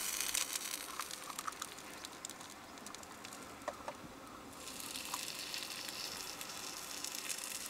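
Eggs frying in a pan beside sausages give a faint, steady sizzling hiss that runs throughout, with a few soft ticks and pops and no voices.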